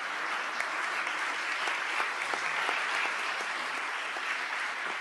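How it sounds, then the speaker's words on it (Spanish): Fairly quiet but continuous applause from a seminar audience at the Chilean Senate on municipal reform, dense clapping holding steady for the whole stretch. "Yo creo que démosle un aplauso"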